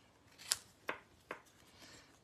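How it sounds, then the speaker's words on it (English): Scissors cutting a narrow paper banner, three crisp snips in quick succession, close and quiet, followed by a faint rustle of paper. "I'm just going to cut a nice little narrow banner with my scissors"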